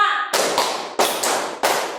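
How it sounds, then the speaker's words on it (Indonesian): A class of students claps together in short counted bursts, with several sharp, loud claps spaced unevenly over two seconds, following a teacher's rhythm patterns. "akan Ibu arahkan dulu untuk tepuk 3, tepuk 4, tepuk 1, tepuk 2, tepuk 5"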